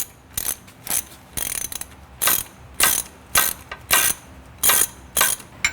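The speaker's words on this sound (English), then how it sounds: "you're going to have to go ahead and remove this long bolt that goes to the rubber isolator for the sway bar motor" A ratchet wrench works a long bolt out of the rubber isolator on a Jeep's sway bar motor, sounding as steady, rhythmic bursts of sharp clicking, about eight strokes in a row, close and loud.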